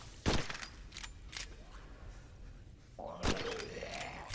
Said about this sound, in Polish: piękny, piękny strzał, ale i tak nie trafiłem